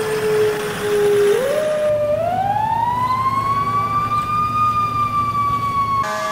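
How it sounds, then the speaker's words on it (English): A fire engine siren in the video game EmergeNYC wails close and loud, its tone sliding smoothly upward and holding a high, steady pitch over a low engine rumble. "I do have the siren and horn pedals, so I'm able to use the sirens"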